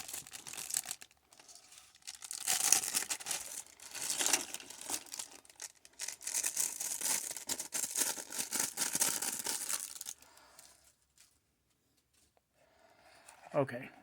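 Paper wrapping comes off GI Joe Classified Sgt Slaughter action figure packaging, with crinkling and tearing rustles in bursts for about ten seconds, followed by quiet and a brief voice at the end.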